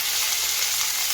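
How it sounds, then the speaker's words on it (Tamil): Curry leaves crackle and hiss in hot tempering oil for samba wheat upma, a steady bright close-up sizzle with no voices. "கருவேப்பிலை போடுறோம் இப்போது"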